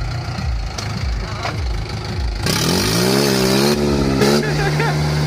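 A tractor engine running with its silencer removed revs up and idles loudly and close, with rising and falling harsh exhaust tones after a few lower engine pulses, with some voices in the background.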